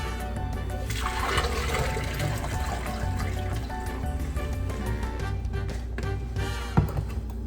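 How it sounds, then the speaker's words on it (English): Strained horchata rice liquid pours steadily into a pitcher, a continuous close trickle and splash with a sharp knock near the end. "now I'm just gonna transfer it to my pitcher, and I think I'm just gonna strain it one more time"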